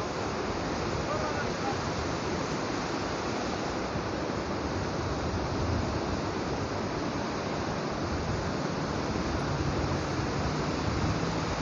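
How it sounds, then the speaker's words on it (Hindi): Mountain spring water pouring out of the hills in Swat's Kalam Valley, a steady broadband rush and hiss that stays constant and fairly close throughout, with no break. "चश्मे का पानी है पहाड़ों से जो निकल के आ रहा है"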